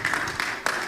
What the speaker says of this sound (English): A round of applause to members from Rivers State.